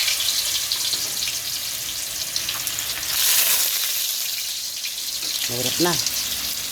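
Tofu fries in a 34 cm non-stick pan with a steady bright sizzle, loud and continuous. Someone talks briefly near the end over the frying.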